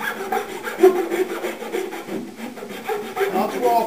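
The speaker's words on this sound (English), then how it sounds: "simply round off these edges, you know, where it's a little bit sharp" Sharp edges of a wooden fireplace mantle piece are rounded off by hand with a rasp or file, giving close, rhythmic scraping strokes in quick succession with a brief pause midway.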